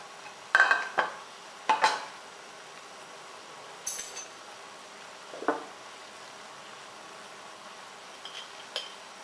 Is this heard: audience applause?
no